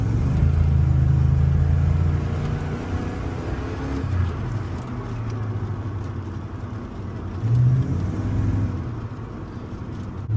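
A Holden HSV VN Commodore SV LE V8 rumbles while driving, a deep steady engine drone with gentle swells as revs rise and fall, fairly subdued and stock-sounding.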